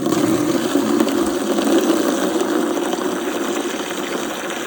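Water pours steadily into a container to soak horse feed, a loud close rushing stream that holds constant throughout without talk.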